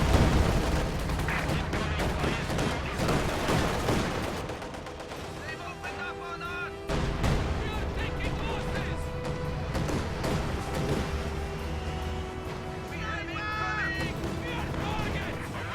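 Maxim machine gun fire in a video game battle crackles in loud, rapid bursts mixed with heavier booms and distant shots, while a voice talks over the gunfire for much of the stretch.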